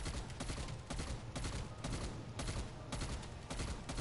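Rapid automatic gunfire from a weapon in Call of Duty Cold War Zombies, a dense unbroken stream of shots running the whole stretch at steady volume.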